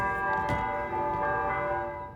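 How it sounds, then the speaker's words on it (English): Church bells ring out above Devereaux Hall across a college campus, a steady resonant peal with overlapping strikes and a long sustained hum, fairly close and heard alone. "The bells above Devereaux Hall ring once again across campus"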